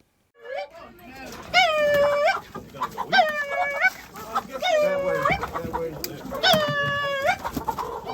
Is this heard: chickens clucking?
yes